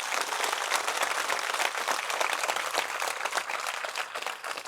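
A crowd claps in sustained, dense applause for the gurus at a devotional gathering, loud and even, with no voices above it.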